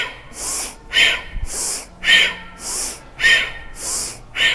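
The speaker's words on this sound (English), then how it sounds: "Active inhale, active exhale." Forceful active breathing in a yoga flow: sharp, loud inhales and exhales alternating in a steady rhythm, about eight breaths, each a close, rushing blast of air with brief pauses between.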